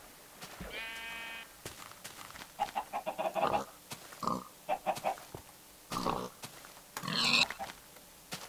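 Pig oinks and sheep bleats from livestock in the video game Minecraft, a string of short, moderately loud calls repeating in bursts.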